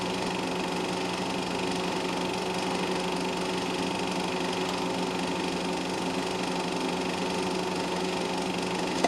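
Several MGA and Porsche sports cars race past on a circuit, their engines giving a steady, continuous buzzing drone that stays fairly loud throughout with no pauses.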